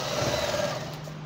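A Brother 999 electric zigzag and straight-stitch sewing machine runs at a steady, even hum with a faint mechanical whir, close and moderately loud, with no talking over it.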